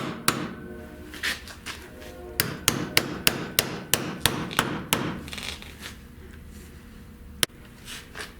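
A hammer strikes sheet metal on a rusted car pillar during auto body repair. The blows land in a steady, evenly spaced run of sharp, ringing metallic hits, then slow to a few scattered taps, close and loud.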